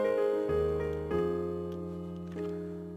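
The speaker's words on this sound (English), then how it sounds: "I like using this grand piano a lot." Sampled grand piano from the Grandeur library pack plays sustained chords with the hold pedal down, each new strike blooming into a rich, ringing tone that rings out and slowly decays, heard alone.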